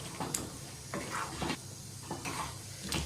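A jackfruit curry mixture stirred in a pot, quiet spoon scrapes and clinks repeating every second or so over a low, faint sizzle.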